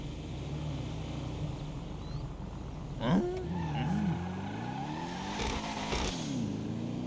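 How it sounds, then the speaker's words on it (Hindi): A car engine idles steadily while warming up, a continuous low rumble with a few rising revs and passing swells partway through, no voices over it. "गाड़ी गर्म कर लेते हैं।"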